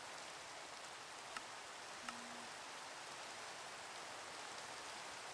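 Steady rain from a video game server during a thunderstorm, a faint, even hiss of falling drops that continues alone throughout, with a couple of tiny clicks and a brief soft tone near the middle.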